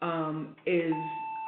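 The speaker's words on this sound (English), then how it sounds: "that's our doorbell" A household doorbell chimes with a sustained electronic tone, ringing under a person talking during an online meeting.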